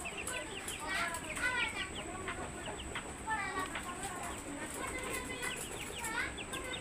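Large hill-breed chickens and chicks cluck and cheep continuously up close, with overlapping bird calls and a steady hum in the background.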